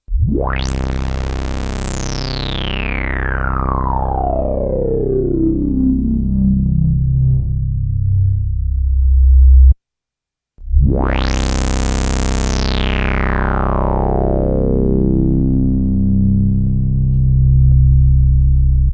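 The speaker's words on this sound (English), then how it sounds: "the resonance is now really ramping up on the Polaris" Two long resonant sweeps from a Chroma Polaris analog synthesizer with high filter resonance: a bright squelchy tone gliding steeply downward for about ten seconds, a brief silence, then a second sweep rising sharply before easing down.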